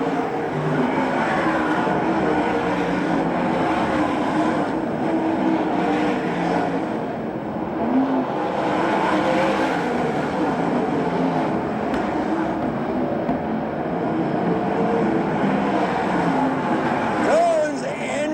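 A field of 360 sprint cars races on a dirt track at a USAC/CRA sprint car championship event, with a loud, continuous engine roar that swells and fades as cars pass, under steady announcer commentary.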